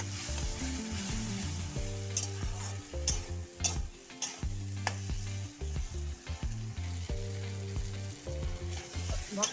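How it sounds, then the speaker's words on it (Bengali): Spices with dried red chilli and ginger sizzle and crackle in a hot pan while a utensil stirs and scrapes steadily, close and fairly quiet, with a low hum underneath. "মশলার সাথে ভালো করে আবার ভেজে নেব"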